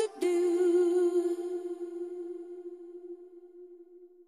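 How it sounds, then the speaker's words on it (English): A single sustained musical tone with a sharp onset that rings out and slowly decays into a long, spacious reverb tail. "I want to have a big, big, big, big reverb somewhere over here."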